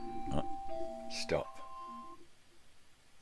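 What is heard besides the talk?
alarm going off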